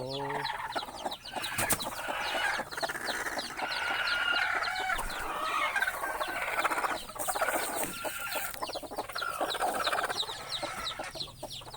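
Hens and chicks cluck and cheep continuously at close range in a backyard flock, with high chick peeps layered over steady hen clucking and no speech.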